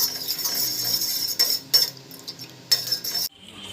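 A spoon scrapes and clinks against a pot while a pudding-like mixture is stirred over low heat, steady soft stirring with a few sharper metallic knocks, no talking.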